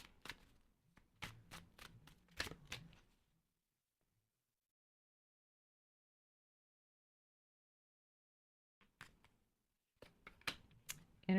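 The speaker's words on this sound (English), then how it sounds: "And I shuffled this deck too." A deck of cards used for a tarot-style reading is shuffled in two short bursts of quick, crisp riffling clicks, separated by several seconds of silence, fairly quiet and close.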